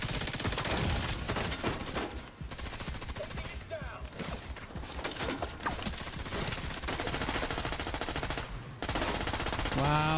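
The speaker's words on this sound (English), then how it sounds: "these fucking idiots keep shooting at me" Enemies keep firing in a video game shootout: dense, loud, continuous gunfire with rapid automatic bursts that hardly pause, with brief gaps where a voice is faintly heard.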